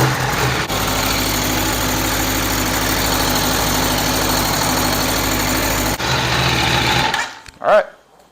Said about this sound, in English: we're gonna start up the bike and we'll check for leaks